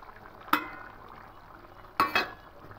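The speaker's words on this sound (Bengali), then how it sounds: "আলুটা হাফ সেদ্ধ এসেছে। এবার ঢ্যাঁড়সগুলো দিয়ে দেবো" Okra dropped into a pan of half-boiled potatoes, two short clattering bursts with a faint sizzle between them, otherwise quiet.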